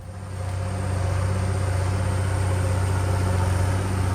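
Allis-Chalmers 7060 vintage tractor engine idling close by, a steady low throbbing drone that swells in over the first half second and then holds even.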